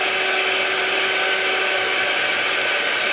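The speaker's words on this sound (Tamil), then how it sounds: "இப்போ இந்த எண்ணெயை எல்லாமே மிக்ஸ் பண்ணுற மாதிரி அடிச்சுக்கலாம் பிளெண்டரில்" A blender whirs steadily at high speed, mixing olive oil, sesame oil and coconut oil for homemade kuppaimeni herbal soap, a loud continuous motor drone with no pauses.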